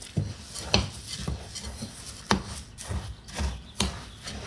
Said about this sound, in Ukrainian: Тепер необхідно добре перемішати